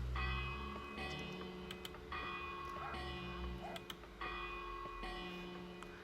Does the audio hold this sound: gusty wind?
no